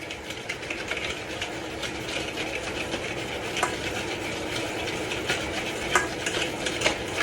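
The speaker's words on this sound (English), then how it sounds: "See for yourself the way I am doing it, whisking." Eggless vanilla sponge cake batter is whisked in a bowl, giving a continuous close scraping and swishing with small irregular taps, steady in level throughout.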